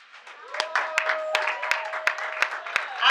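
An audience at a workshop certificate ceremony claps in a steady burst of applause, with sharp individual claps standing out over the crowd and a faint voice underneath.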